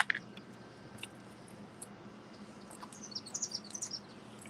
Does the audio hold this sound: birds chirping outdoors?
yes